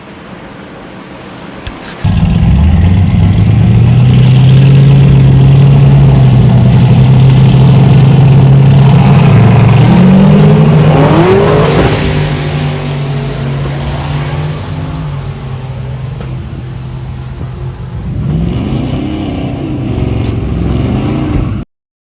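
An LS-swapped BMW E90 3 Series at a race track. The engine starts suddenly into a loud, deep rumble, holds a steady drone, then revs and rises in pitch before easing off and surging again. No one talks.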